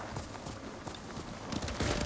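Horse hooves clip-clop at a quick, steady pace in Ghost of Tsushima, close and fairly loud, with no voices over them.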